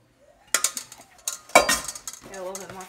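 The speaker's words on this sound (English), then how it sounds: "let me grab a spatula" Metal kitchen utensils clink and rattle in short bursts as a spatula is grabbed from among them in a home kitchen during biscuit making, with a brief voice at the end.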